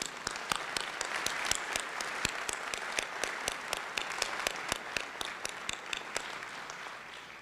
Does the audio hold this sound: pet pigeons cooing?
no